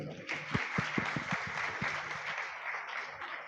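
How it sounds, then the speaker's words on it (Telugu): A church audience claps together for a few seconds, a dense, fairly steady patter of many hands at moderate loudness, with faint voices mixed in at the start. "ఉందన్న వాళ్ళు చప్పట్లు కొట్టండి."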